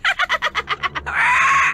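A bird in the Nancy Drew game The Curse of Blackmoor Manor calls with a quick series of about eight clucking, gobble-like notes, then a sustained squawk, loud and close with no talk.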